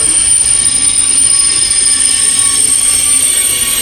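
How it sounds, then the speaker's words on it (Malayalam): A long-distance intercity train bound for Rome rolls through a station in Sicily, Italy, a loud, continuous rumble and rush of railcars with thin, high wheel squeal running steadily throughout, with no talking. "ഇതിവിടെ നിന്ന് റോമിലേക്ക് പോകുന്ന ട്രെയിനാണ്. ഇത് ലോങ് ഡിസ്റ്റൻസ് ട്രെയിനാണ്."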